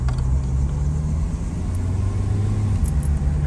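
A Subaru Outback engine drones steadily while driving, a loud low rumble with road noise, close and continuous, no voices.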